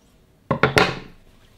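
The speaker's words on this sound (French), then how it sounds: "je vais couper l'angle, de toute façon le tissu il est dans un état" Fabric corner being cut with scissors, three quick close crunching snips in a row followed by a short fading tail in an otherwise quiet room.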